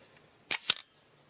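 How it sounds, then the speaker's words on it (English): A camera shutter fires at a fairly slow speed, giving two sharp mechanical clicks about a fifth of a second apart, close and distinct against near silence. "So this is a fairly slow shutter speed"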